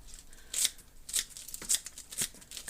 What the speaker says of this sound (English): He uses her scissors quite a bit instead of a knife.